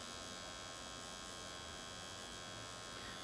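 A dermograph micropigmentation machine used to camouflage skin spots, dark circles and scars gives off a steady, faint electric buzz with a constant hum and no pauses or voices.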